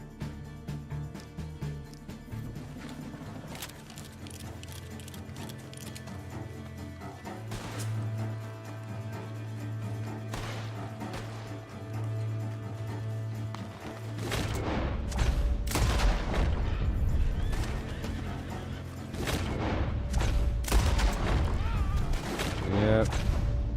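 Gunfire from split point bullets in Red Dead Redemption 2, a dense run of sharp shots and booms that grows louder and heavier in the second half, over a steady game soundscape with a low hum.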